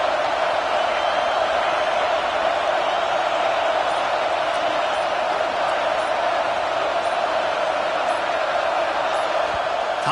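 Stadium crowd at a football game roars in a steady, dense wash of noise, loud and continuous throughout with no single voices standing out, as the home fans try to keep the opposing offense pinned deep in its own end.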